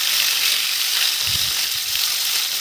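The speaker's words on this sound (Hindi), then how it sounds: "माछ को भाजी नेबा।" Fish pieces frying in mustard oil for a traditional Odia village fish curry make a loud, continuous, close sizzle with a few soft low thumps partway through.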